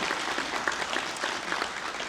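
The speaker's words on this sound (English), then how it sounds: "give him a clap" Audience applause after a new dad is introduced at a multicultural community gathering in Victoria, Australia: a dense, steady wash of clapping from a crowd, moderately loud and continuous, with no talk over it.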